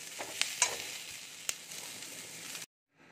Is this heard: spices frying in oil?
yes